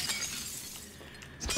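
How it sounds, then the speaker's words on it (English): Glass shattering in the video game Prey, a broad crashing break with scattered bright tinkling fragments over about a second and a half, moderately quiet within game ambience. "This is the first game where I can actually break glass to make a shortcut"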